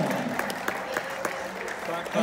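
An audience at a vintage swing band club event applauds, a brief burst of steady clapping heard at moderate distance.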